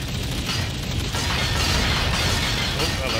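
Gunfire and booming blasts from combat in the space game Starbase make a dense, rumbling wall of bursts and pops, with a louder swell toward the end. A voice talks over the noise.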